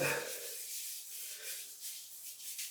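Shaving soap cube (Phoenix Artisan Accoutrements CaD) rubbed across a freshly shaved head, giving a steady, close, soft scratchy rubbing with gentle repeated strokes and no talking.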